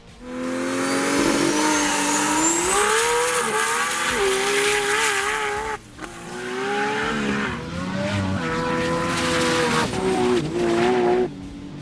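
A 1000+ hp Nissan GT-R race car roars down a runway, its engine loud and close with rising, wavering revs, tyre squeal and a brief gear-change dip midway, continuous throughout.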